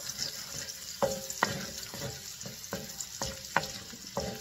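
Pork and garlic sautéing in a pan for a home-cooked ampalaya con carne, a soft steady sizzle broken by sharp clinks of a utensil scraping and stirring, close and fairly quiet.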